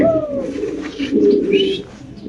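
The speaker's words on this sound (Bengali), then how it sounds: "এখানে আছে এক জোড়া হলুদ মুখী কবুতর" Soft, low pigeon coos rolling on in a steady murmur at a pigeon farm, close by, with faint chirps from other birds in the background.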